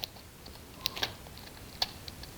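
Pruning shears cut branches on a young Shinpaku juniper bonsai, giving a few sharp, light clicks at irregular intervals, close and fairly quiet, with no voices.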